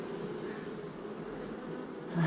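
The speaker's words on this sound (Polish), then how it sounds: "Pszczoły się nawzajem karmią." A steady, dense buzzing of many honeybees inside a hive, close and continuous, with a slightly louder surge near the end.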